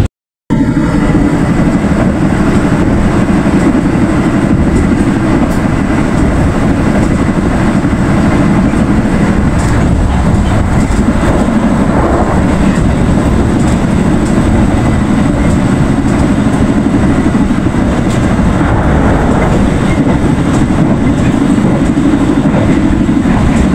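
Loud, steady rumble of the Progo express train running at up to 120 km/h on Indonesian rails, heard from inside the carriage, with continuous low roar and rattling wheel noise.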